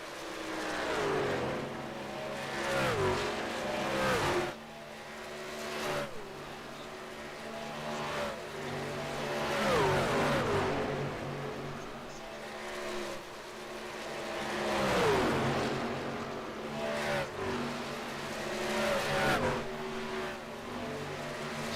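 Racing trucks in a championship race at the Texas race track roar past one after another, engines rising and fading in repeated pass-bys at a steady distance, with no voices.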